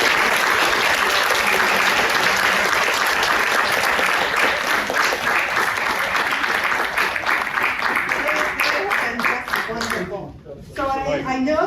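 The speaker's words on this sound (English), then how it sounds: "So I'd like you to give them all an applause for their time and heart." A seminar audience applauding, dense continuous clapping that fills the room for about ten seconds before tapering off, with voices rising in the brief lull at the end.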